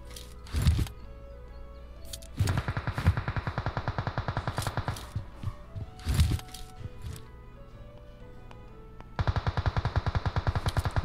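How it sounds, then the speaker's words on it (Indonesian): Rapid automatic gunfire from a teammate in PUBG Mobile rattles out in several bursts, sharp repeated cracks with a few louder single shots between them, fairly close and dominant, with no voices over it. "Teman gua yang nembak."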